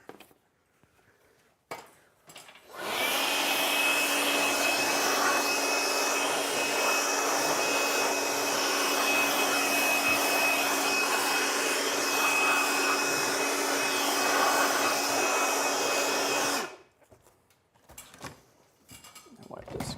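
Air blower running steadily at close range for about fourteen seconds while clearing plastic film off a van build surface, a loud broadband rush with a faint high whine, starting and stopping abruptly.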